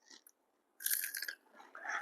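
Crunchy fried bread piyaju, spicy onion fritters, is chewed in close, crisp bites, a couple of short crunches, a pause, then a louder burst of crackling mouthfuls.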